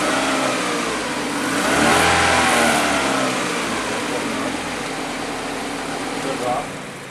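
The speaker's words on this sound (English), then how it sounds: "Now we're going to raise the idle a little bit." Car engine running steadily with the idle being raised, rising to a higher, louder hum in the middle before settling back down, with faint voices under it.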